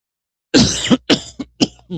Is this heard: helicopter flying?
no